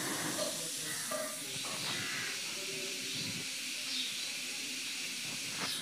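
Onions and green chillies frying in a pan, a steady broad sizzling hiss that stays constant throughout with faint clinks and stirring.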